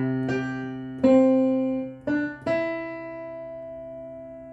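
Piano playing the second part of the Jingle Bells chorus in an easy arrangement, four struck chords with both hands at once, each left to ring and decay, fairly soft and close.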